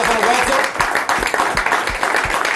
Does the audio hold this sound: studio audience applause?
yes